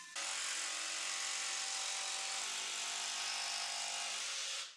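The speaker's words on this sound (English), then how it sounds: "so I finished up with the jigsaw" A jigsaw cuts through MDF with one continuous, loud buzzing whine lasting nearly five seconds, starting and stopping abruptly, with no voices.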